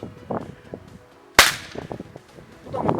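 A single sharp air pistol shot fired at a target on an indoor range cracks out loud and close midway, surrounded by faint background voices and room noise.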